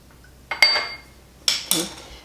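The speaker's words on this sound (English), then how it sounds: "I just have 1 egg white, and I'm just going to be mixing that with 1 tablespoon water." A utensil clinks against a bowl while egg white is mixed with a tablespoon of water for an egg wash, giving a few separate ringing taps and scrapes close by with no talking.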